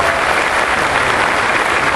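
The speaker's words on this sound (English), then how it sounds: "So give her a round of applause." Audience applause at a town hall meeting about the Resolution Copper mine, a dense, steady wash of many hands clapping that holds at full strength for the whole stretch, with no talk over it.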